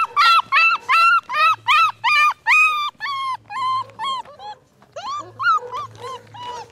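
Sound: beagle puppies barking and whimpering

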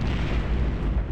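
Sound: explosions in the video game Deathtrap Dungeon

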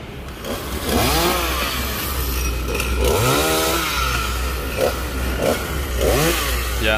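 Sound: chainsaw cutting branches of a Bucida molinetii tree

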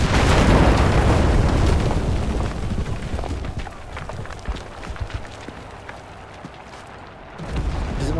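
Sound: explosion in a video game

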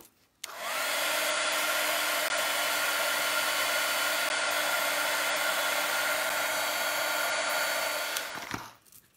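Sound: hair dryer drying paint

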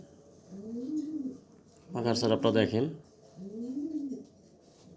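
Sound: pigeon cooing

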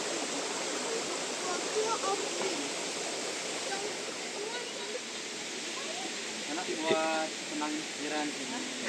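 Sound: river flowing

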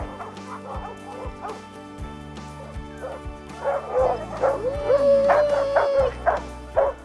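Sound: sled dogs barking and yipping before the run

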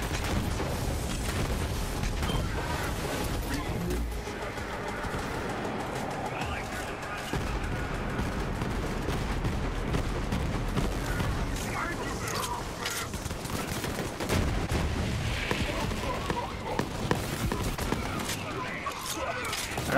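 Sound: rocket launcher fire and explosions in video game Borderlands 3

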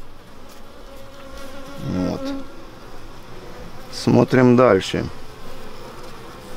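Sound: honey bee buzzing around beekeeper's head at hive

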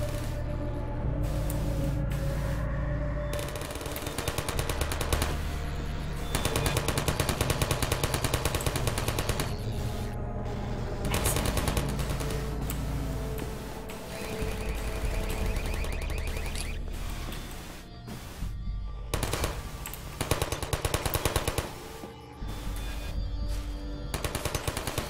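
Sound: turret gunfire in video game Half-Life 2

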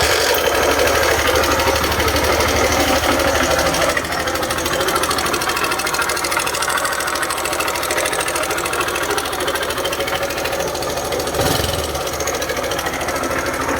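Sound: Honda Wave 110i motorcycle engine running with abnormal noise

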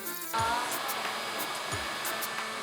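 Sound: cordless stick vacuum cleaners running at full power

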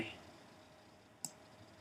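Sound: computer mouse clicking

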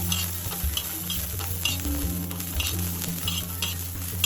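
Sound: green chilies roasting in oil in a pan

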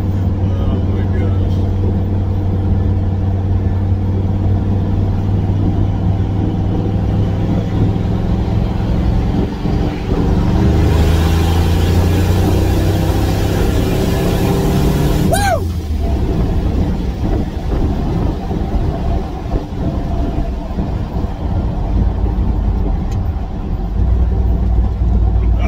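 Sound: turbocharged EFI 460 truck on E85 revving and accelerating

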